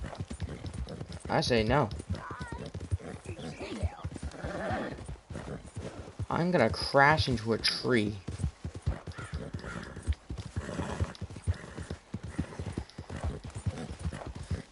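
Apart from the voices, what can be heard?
horse galloping in Red Dead Redemption 2 video game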